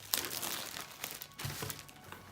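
Plastic wrapper of a 1998 Press Pass trading card pack crinkles and crackles steadily up close, with a few sharper tearing bursts, no voices.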